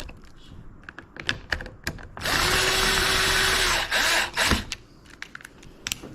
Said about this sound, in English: we could run our screws in, and that will button up the tail section